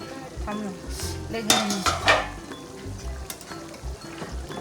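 Paneer frying in a pan while being stirred, with scraping and clinking of a utensil against the metal over a steady sizzle and a couple of louder stirring bursts in the middle, no talking.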